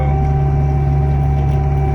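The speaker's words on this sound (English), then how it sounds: "Bush hogging up here in these trees though, and at the moment I don't have a great bush hog for my tractor" Tractor with a makeshift bush hog cutting brush among trees, a loud, constant engine drone with a steady hum throughout and no variation in intensity.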